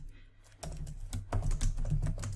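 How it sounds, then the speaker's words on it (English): An address is typed on a computer keyboard: a quick, close run of light key clicks after a brief quiet start. "So once again, I'm just going to type in a quick address."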